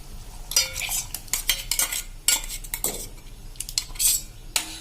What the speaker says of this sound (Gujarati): આ રીતે ભાત નાખ્યા પછી મિક્સ કરીને આને આપણે એક ઉભરો આવે ત્યાં સુધી આ રીતે હલાવતા રહેશું